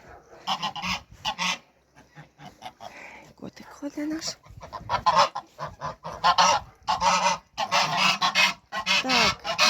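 A flock of geese honks loudly and repeatedly at close range, with clucking fowl mixed in and someone speaking briefly between the calls.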